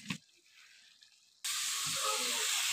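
Grated bottle gourd frying in a pan, a quiet cooking hiss at first, then a sudden loud, steady sizzle that takes over for the rest.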